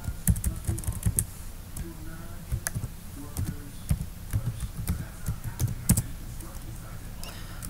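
Someone enters a root password on a computer keyboard at a Unix login, giving a close run of quick, uneven key taps and clicks with short pauses between bursts.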